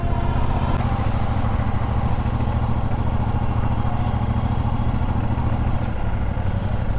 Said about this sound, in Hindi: एक तो बाइक स्लो चली